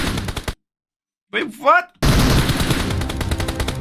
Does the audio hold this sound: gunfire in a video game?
yes